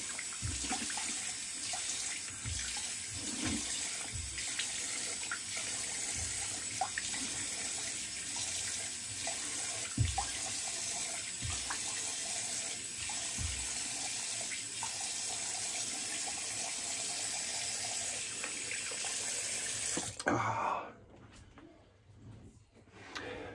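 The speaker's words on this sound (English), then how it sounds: "Cold water rinse." Water runs steadily from a tap into a sink for a long stretch during a cold face rinse after shaving, with occasional splashes, then shuts off and leaves a few drips.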